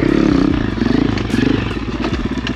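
A cheap Amazon dirt bike engine revs hard and steadily during a wheelie, a buzzing pulsing drone that rises and dips close to the mic with some clatter, no talk over it.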